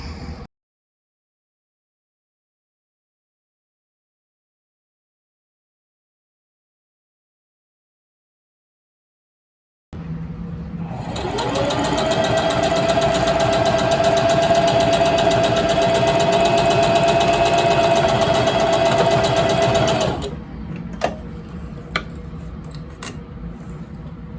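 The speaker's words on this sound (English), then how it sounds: "My straight stitch threads are going to break, so I'm going to do a zigzag stitch." A sewing machine runs a zigzag stitch on stretchy shirt fabric: after a stretch of silence, a steady close motor whir with a faint tonal hum holds for about ten seconds, then stops, leaving a few light clicks.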